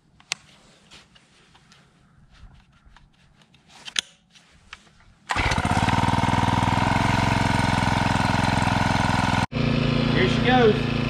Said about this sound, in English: we've got our Titan T-post driver